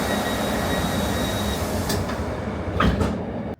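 A passenger train rumbles steadily along, with a faint high whine and a few brief clacks near the end, no voices.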